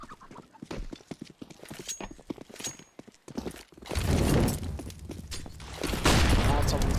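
In a CS:GO match on Inferno, grenades and smoke grenades go off as a rapid clatter of clicks and pops, followed by two loud hissing, bursting blasts, all under a caster's excited commentary.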